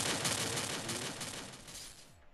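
Rapid gunfire in the Free Fire battle royale game, a dense, continuous burst of repeated shots at moderate loudness, with no talk over it.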